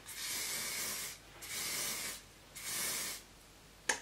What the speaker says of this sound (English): I just tend to spray over it again just to hold that root lift in place